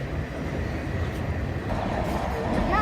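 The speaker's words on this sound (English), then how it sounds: "Yeah, this is a long train." A long freight train rolls past at close range, a steady broad rumble and roar of rail cars with faint metallic squeals near the end, holding an even level throughout.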